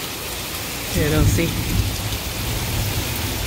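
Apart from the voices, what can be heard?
rain with small hail falling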